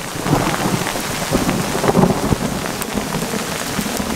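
A heavy thunderstorm with hail pours down on a tarp shelter at a stealth campsite, a dense loud hiss of rain and pelting ice broken by low thunder rumbles, with no one talking.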